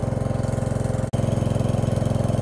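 A Homelite XL12 chainsaw engine runs steadily at a rough, throbbing idle close by, with one brief dropout midway, cutting nasty knotty elm rounds outdoors.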